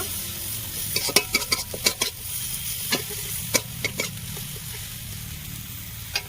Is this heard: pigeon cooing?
no